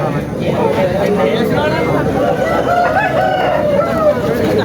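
Roosters crow repeatedly at a country chicken market, the long rising calls overlapping over a dense, steady crowd of clucking birds and the chatter of voices haggling nearby.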